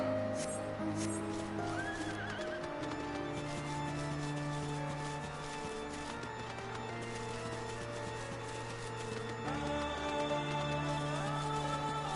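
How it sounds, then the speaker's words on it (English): Horse mount neighing in Final Fantasy XIV, a whinny early on over steady game music and ambient tones. "I just need 2 more in order to get the final horse, which is Kieran, which can fly"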